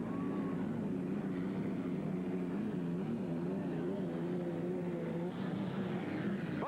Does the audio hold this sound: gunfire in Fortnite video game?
no